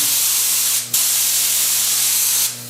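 A loud, steady paint spray gun hiss laying a base coat, cut off briefly once and then resuming, ending with a drop at the close, over a low mechanical hum.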